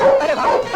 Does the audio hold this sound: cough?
no